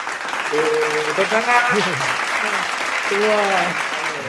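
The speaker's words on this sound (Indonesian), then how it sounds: "Beri tepuk tangan yang meriah untuk Rigen." Loud, sustained applause from a stand-up comedy competition audience, with cheering and whooping voices rising over the clapping.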